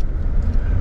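A car pulling out of a gas station in Thailand, with a loud, close low-pitched engine and road rumble that holds steady through a short moment.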